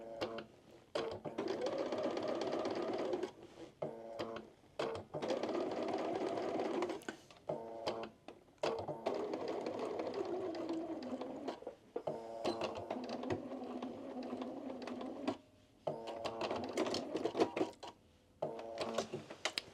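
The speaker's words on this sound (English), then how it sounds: "I'm going to sew all the way down to where I folded up." A sewing machine stitches a long seam through fabric in several sustained runs of rapid mechanical whirring, stopping briefly between bursts, close and moderately loud, with no talking.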